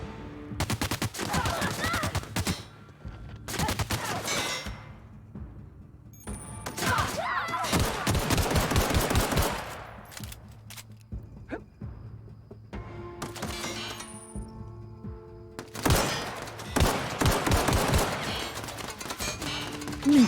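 Bursts of gunfire from a video game set in a space colony, loud repeated volleys with short pauses between, some rapid automatic fire and thuds, with faint game sounds and no talk over it.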